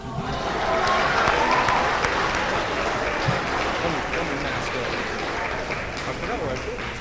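A crowd applauds award winners at a junior high awards program, sustained clapping filling a hall and slowly thinning, with some voices mixed in.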